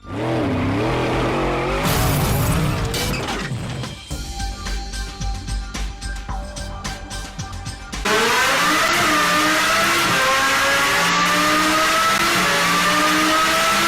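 A second-generation Audi R8 with the 5.2 V10, fitted with an F1-style exhaust, revs hard at full tilt, rising and falling wails and crackling bursts, ending in a long loud climbing scream through the gears.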